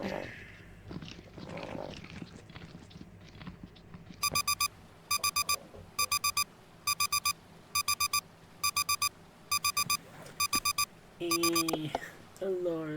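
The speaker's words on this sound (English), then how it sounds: "Alarm." An electronic alarm blares in a video game, a loud, steady pattern of rapid beep bursts repeating about every half second over low ambient noise, with a growling creature sound near the end.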